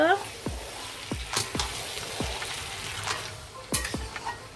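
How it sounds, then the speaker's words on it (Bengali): Mutton pieces frying in hot oil as they are stirred, a busy crackling sizzle punctuated by repeated sharp knocks and scrapes of a spoon against the pan, fairly close. "তেলকে ভালো করে আমি এবার এটা মাংসটা কষে নেব"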